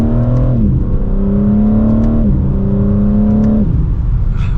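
A 2023 BMW M4 Competition xDrive coupe accelerates mildly in sport mode, its engine note climbing steadily in two loud gear pulls with a distinct drop at each upshift, heard from inside the car without speech.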